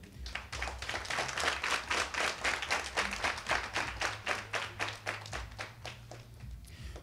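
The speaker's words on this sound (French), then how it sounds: "Que je vous demande d'applaudir encore plus fort." An audience at a training graduation event claps in unison, a rhythmic series of steady synchronized claps, fairly loud and close, over a low background hum.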